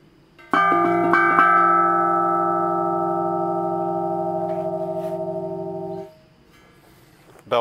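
A bell made from a carbon dioxide cylinder with cuts in its wall, struck a few quick times and left ringing in a long, evenly decaying metallic tone with several overtones, loud and close, then damped suddenly.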